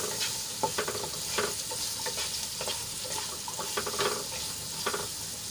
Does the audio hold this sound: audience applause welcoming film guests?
no